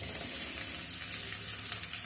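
Sliced onions frying in a pan for egg gravy, a steady close sizzle with soft crackle that holds evenly throughout, with no talking.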